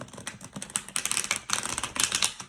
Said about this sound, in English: that was a satisfying sounding shuffle